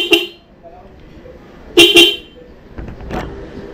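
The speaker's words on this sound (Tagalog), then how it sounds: "yung loud horn natin na dual disc" Loud car-style horn blasts from a Denso dual-disc horn on a Suzuki Sniper 155R motorcycle: a short honk, then a double blast, followed by fainter tones and background voices.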